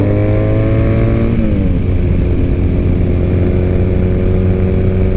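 A Triumph Bonneville motorcycle accelerating hard in second gear, its loud close engine note climbing steadily in pitch for several seconds, with a brief dip at a shift and no talk.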